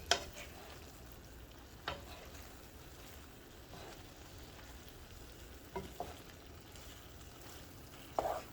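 Vegetable risotto is stirred and folded in a pot as a soft, faint simmering hiss, with a few scattered knocks of the spoon against the pot's side.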